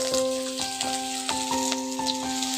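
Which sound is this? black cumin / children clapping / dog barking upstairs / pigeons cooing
black cumin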